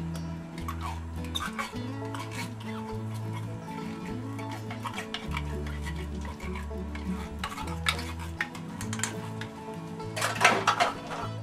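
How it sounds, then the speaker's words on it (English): A spoon scrapes and stirs a beef and vegetable mixture into noodles for a nutty beef noodle casserole, with steady clinks and rustles against the pot, close up and continuous, over a bed of low tonal sound. "just dump that into the noodles. Stir that around a little bit"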